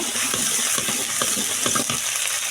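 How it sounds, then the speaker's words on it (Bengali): Cumin, chili and turmeric frying in hot oil in a wok, a loud continuous sizzle with faint stirring scrapes running through it, close and with no talk. "তো এবার কড়াই জিরে মরিচ হলুদ এগুলো সব আমি দিয়ে দিয়েছি। এবার এটাকে ভালো করে ভেজে নেব"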